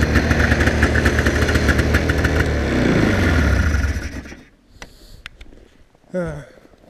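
A 1988 Arctic Cat Wildcat 650 snowmobile engine runs loud and steady for about four seconds, then cuts out, leaving quieter mechanical noises and a short rising sound near the end.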